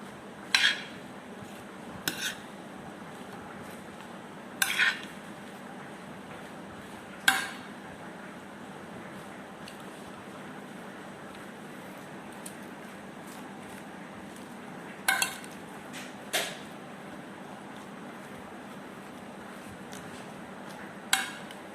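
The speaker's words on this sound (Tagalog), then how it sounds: "Ating ihalo yung sauce." Sauce being mixed into a Qatar-style chicken salad brings quiet, occasional clinks of a utensil against a bowl, spaced several seconds apart over a near-silent background.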